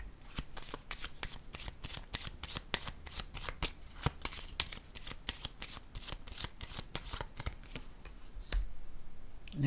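Tarot cards shuffled in a steady run of crisp riffling snaps, close and clear, ending with a card laid down, no talk over it.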